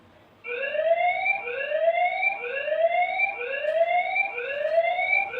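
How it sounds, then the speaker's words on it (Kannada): A CCTV security camera's alarm siren starts abruptly and sweeps upward again and again in a fast, regular whooping pattern, loud and close, with no talk over it. "ಸೈರನ್ ಆನ್ ಮಾಡ್ತೀನಿ ನೋಡಿ ಇವಾಗ ಇಲ್ಲಿ"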